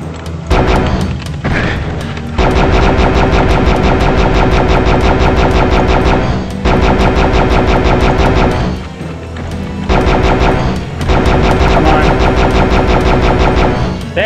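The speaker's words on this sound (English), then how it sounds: "I didn't realize they were shooting at me." Enemies firing at the player in the video game Heretic, loud sustained volleys of rapid shots in long bursts separated by brief pauses, with booming impacts.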